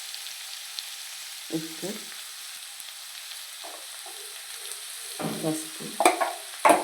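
Broad-bean vegetables for a chikkudukaya curry fry quietly in a pan, with a few bursts of scraping stirs growing busier toward the end, while a person talks briefly.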